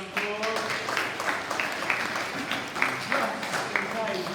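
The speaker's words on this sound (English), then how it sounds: "Let's give a big round of applause." Children at a primary school celebration assembly give a round of applause, uneven clapping running throughout beneath a voice that carries over it with clear spoken patterns.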